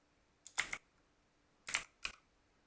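Two short bursts of computer keyboard keystrokes, a couple of crisp clicks each, separated by a pause, close and fairly quiet against a near-silent room.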